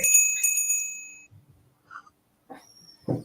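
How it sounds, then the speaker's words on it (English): A bell rings with bright, sustained metallic tones at the start, then fades into a quiet stretch broken by a few faint thumps and short noises. "That's the bell right there."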